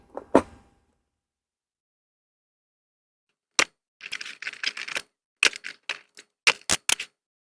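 A dinosaur figure, an Allosaurus, freed from its packaging of rubber bands and ties: a sharp snap, a pause, then a run of crisp plastic clicks, rustles and snaps up close.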